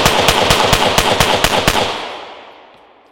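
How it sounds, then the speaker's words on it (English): A handgun fires a fast string of shots, about eight or nine sharp, loud, evenly spaced cracks in under two seconds, followed by a long fading echo tail. "We're going to see how flat we can keep this guy shooting."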